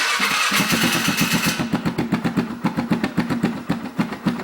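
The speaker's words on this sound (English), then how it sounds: "So for the hell of it, I'm going to give it a start." Polaris Sportsman ATV with a modified factory exhaust, cold-started in neutral: the engine cranks, catches and settles into a loud, close, steady pulsing idle with a throbbing exhaust beat.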